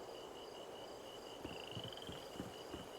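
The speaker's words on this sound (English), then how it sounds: "Is that just a frog noise for fun?" Faint frog croaks in a video game, a few soft irregular low pulses beneath a steady high insect-like drone and ambient hiss, with no talking.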